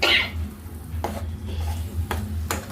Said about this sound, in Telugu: సరే బాగా కలిపేసుకోండి